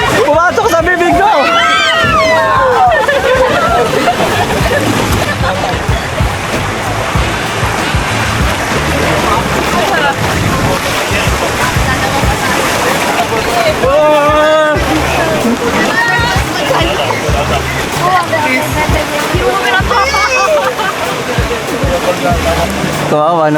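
Water splashes and sloshes loudly throughout on a theme park water ride at Everland in South Korea, with riders shouting and chattering excitedly over the continuous rush of spray.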